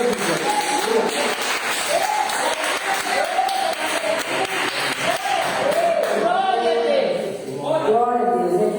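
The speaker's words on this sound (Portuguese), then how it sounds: "aplauda bem alto ao nome de Deus" A church congregation claps loudly at a morning service, dense sustained applause mixed with shouting voices and a preacher talking over it, dipping briefly near the end.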